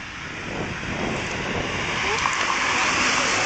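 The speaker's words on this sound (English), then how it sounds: "Oh, there's the rain." Steady rain hisses outdoors as a broad, continuous wash of noise, mixed with some wind buffeting, growing slightly louder over a few seconds with no clear talk.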